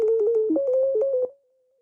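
A sonified galaxy spectrum with one sharp emission peak plays as a short wavering electronic tone that steps up and down in pitch, then settles into a single faint sustained note.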